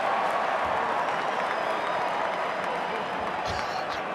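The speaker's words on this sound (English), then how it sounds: "NRL players are starting to applaud." Crowd applause and a steady roar from a rugby league match, NRL All Stars against the Indigenous All Stars in 2012, with players applauding a try. Dense and continuous across the whole stretch, with commentary voices underneath.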